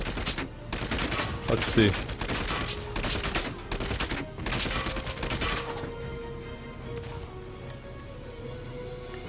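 Enemy gunfire rattles in Valkyria Chronicles 4 as dense, rapid bursts of automatic fire in the first half, then fades into a quieter background with a low hum, while a voice speaks briefly.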